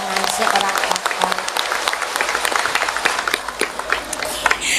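Applause from an Islamic women's gathering in Temanggung breaks out in scattered, uneven claps that rise and fall, with crowd murmur and voices talking over it.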